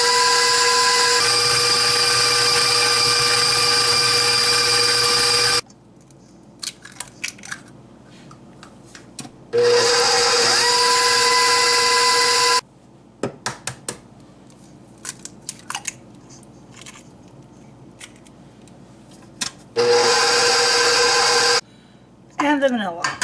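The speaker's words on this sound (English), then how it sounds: "we're going to add our eggs one at a time and beat them in" An electric mixer beats eggs into cake batter in loud, steady whirring bursts of several seconds each, separated by quieter stretches of clinks and handling noise.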